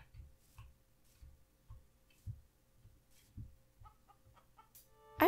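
Chicken clucking in the farming video game Sunflower Valley, a run of soft, evenly spaced low clucks with faint game sounds, ending in a brighter, louder burst.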